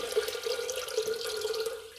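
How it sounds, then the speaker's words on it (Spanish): Water runs from a tap into a cooking pot to boil beans for a Mexican chilacayote dish, a steady continuous splashing stream heard alone and close. "vamos a poner el agua para poner nuestros frijoles"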